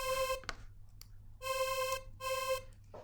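Synthesized metallic screech in the style of SOPHIE's Ponyboy, a short bright tone with dense, harsh overtones firing in three separate bursts with gaps and clicks between, fairly quiet and alone.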